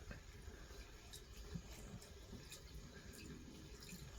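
Petrol poured into a Swiss army Benzinvergaser-Brenner stove, a steady faint liquid trickle running without a break, close by and quiet with no talk.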